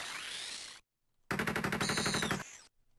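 Machine gun fire in the Game Boy game A Sound of Thunder comes as harsh, buzzy 8-bit bursts: a loud rattling volley, a brief silence, then another rapid stuttering burst, with no talk.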